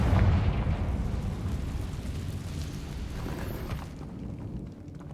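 A Confringo fire spell erupts in the Hogwarts Legacy video game, a loud booming blast that rumbles heavily at first and then decays over several seconds.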